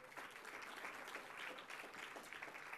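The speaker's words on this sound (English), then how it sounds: "So big applause for her, too." Attendees at a LatinX in AI research event at the NeurIPS 2018 conference applaud steadily, a fairly quiet, continuous patter of clapping hands across the room.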